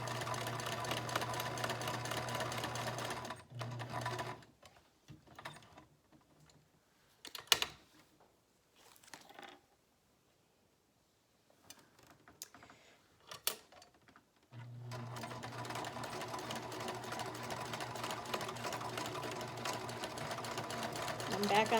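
A sewing machine stitches back and forth over the elastic straps on a homemade fabric mask, with a steady motor whir at the start and end. Quiet handling noises and brief pauses fall in between.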